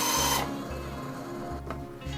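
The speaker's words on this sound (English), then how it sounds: "I'm going to set up and go ahead and cut that as a 5-inch piece." Power saw cutting a 5-inch piece of wood in a workshop, a steady close mechanical whine with a low hum and brief changes in tone as the blade moves through the wood.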